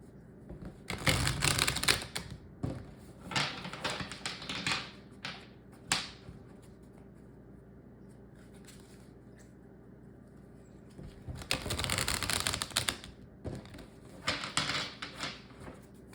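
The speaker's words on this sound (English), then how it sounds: "I will reveal these cards to you once I'm done shuffling." A deck of Christmas-themed tarot cards being shuffled in several crisp riffling bursts, close and fairly loud, separated by quiet pauses.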